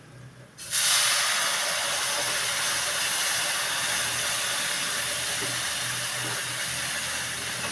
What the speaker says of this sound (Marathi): आता ह्याच्यामध्ये मी पाणी घालते